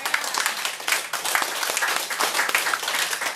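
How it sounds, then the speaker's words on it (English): Audience at a life-skills graduation applauding a graduate, loud, dense, continuous clapping close by with no speech over it. "Give him a big round of applause."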